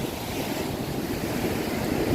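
Sea waves wash steadily onto Phayun beach in Rayong, Thailand, as a constant broad rushing surf with wind buffeting the microphone and no voices.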